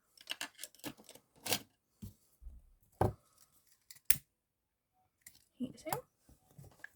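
Scissors make a few sharp, separate snips and clicks while ribbon is trimmed for a twisted boutique hair bow, close and fairly quiet, with gaps of near silence.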